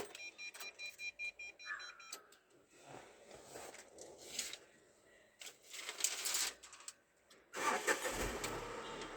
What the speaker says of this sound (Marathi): एका सेलमध्ये आपली गाडी चालू झालेली आहे